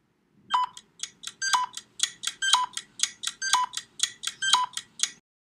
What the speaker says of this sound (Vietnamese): Điện thoại di động.